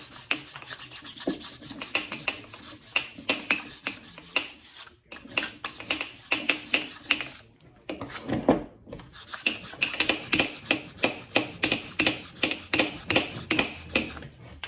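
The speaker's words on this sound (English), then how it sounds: "You just take it on where your piston will go up and down your cylinder wall. Just sand it down a little bit." Fine sandpaper rubs back and forth on a Chrysler 440 engine piston in steady rasping strokes, close and clear, with two brief pauses and no speech.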